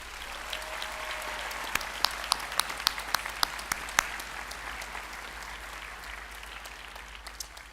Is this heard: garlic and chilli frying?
no